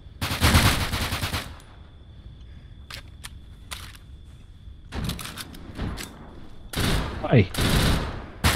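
Bursts of close, loud automatic gunfire in the open-world survival shooter Deadside, with a long volley first, then scattered single shots and further rapid bursts, and a brief spoken word between them.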